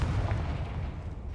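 Confringo fire spell explosion from the Hogwarts Legacy video game, heard as a dense, booming low rumble that stays steady and loud for the whole moment with no other sound.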